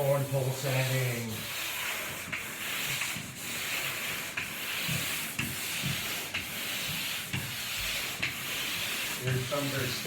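Long, rhythmic scraping strokes of a sanding pole rub against a bedroom wall, a steady close hiss pulsing back and forth, with a voice briefly at the start and end.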